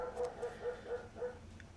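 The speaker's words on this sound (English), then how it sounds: "That dog..." A dog barks about six times in a quick, even series, the barks fairly faint and set back from the listener, with a low background hum underneath.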